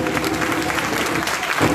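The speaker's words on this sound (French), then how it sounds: "Je vous demande d'applaudir le président Soro." Audience applause for President Guillaume Soro at a public gathering in Valence, a dense continuous wash of many hands clapping at close range for a couple of seconds.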